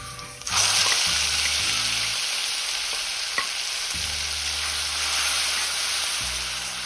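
Ground spice paste dropped into a hot pan and frying, a sudden loud sizzle that then holds steady as a dense crackling hiss, with a low hum underneath.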